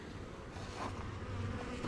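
Honeybees buzz softly and close by at a hive, a faint continuous hum swelling slightly as insects move around.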